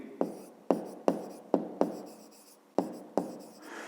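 A pen or pencil makes a series of short scratchy strokes on paper at close range, about eight separate marks in an uneven rhythm, with no talking.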